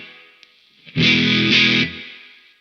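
A single electric guitar chord through a Nobels ODR Mini overdrive pedal, spectrum control turned fully up, rings out loudly for about a second, then fades, with faint amp hiss before and after.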